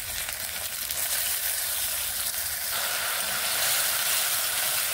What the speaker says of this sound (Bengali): এই পেস্ট আমি 2 চামচ দিয়ে দেব।